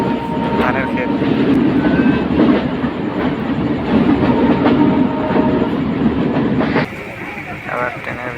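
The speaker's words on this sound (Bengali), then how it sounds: "ইঞ্জিন চালিত মানে ডিজেল চালিত ট্রেন আর কি" From inside a diesel train travelling between Faridpur and Rajbari in Bangladesh, a loud, continuous rumble and rattle of the carriage fills the space, with faint clatter throughout and a sudden shift in tone near the end.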